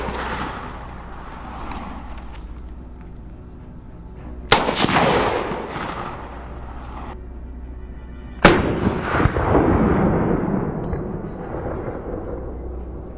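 Two loud gunshots ring out during a wild boar hunt, about four seconds apart, each with a sharp crack and a long echoing tail over a steady low outdoor rumble.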